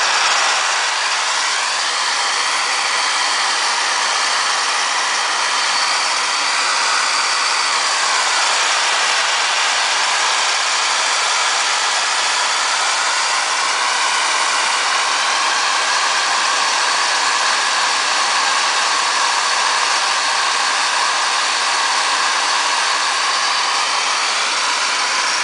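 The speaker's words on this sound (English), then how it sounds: "I'll show you another cool thing you can do with the blow dryer in a minute" A handheld blow dryer blasts air over a wet watercolor painting, a loud continuous whooshing roar with a slightly shifting tone as it moves, heard alone for the whole stretch.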